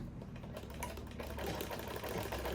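A sewing machine stitches lace on a Yoruba iro and buba outfit, giving a steady, faint mechanical whir with soft rhythmic ticking throughout.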